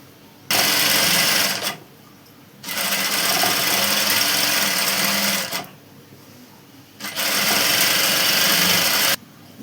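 A sewing machine runs in three long bursts of steady stitching, pausing briefly between them, as it sews a straight seam joining the panels of an umbrella frock. No one speaks.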